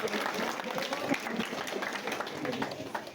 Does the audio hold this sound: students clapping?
yes